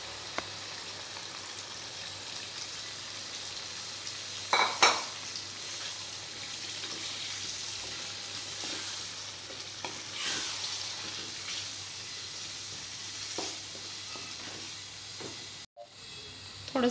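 Cooked dal tips into a hot pan and gets stirred, a continuous sizzling hiss with scraping spoon strokes and a couple of louder clanks, close by and without voices, ending in a short break and a clatter.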